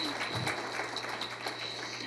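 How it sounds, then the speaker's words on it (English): Audience at a community flash flood meeting applauds with a short, fairly soft burst of mixed clapping in an indoor room. "give them a round of applause."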